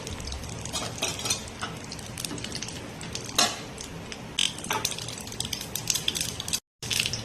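Mustard seeds spluttering in hot ghee in a kadai, a steady crackle with scattered sharp pops and brief spoon clinks, close and moderately loud, with no talk.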